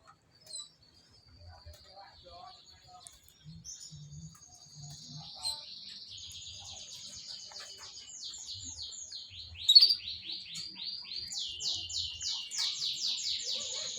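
A male canary kept for breeding sings in bright trilling runs that grow louder and denser toward the end, with faint low knocks and a soft chirping background underneath.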